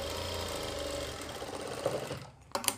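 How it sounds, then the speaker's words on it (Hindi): A sewing machine runs in a steady continuous whir while stitching the fabric waistband of elastic pants, the hum stopping near the end before a brief burst of handling noise. "यहाँ पे हमें लगानी सिलाई और सिलाई लगाते हुए दोस्तों यहाँ पे हमें उतार देनी है"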